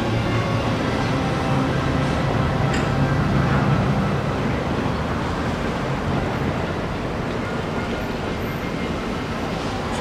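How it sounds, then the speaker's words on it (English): Steady wind blows outdoors in Campeche during fly tying, a constant broadband rush that holds at an even level for the full ten seconds, with no talk over it. "We got a little wind, so everything gets blown out."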